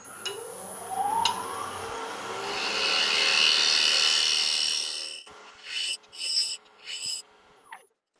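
A woodturning scraper cutting a small wooden piece spinning on a lathe, a rising rough shaving hiss that swells and fades, followed by several short separate cuts near the end.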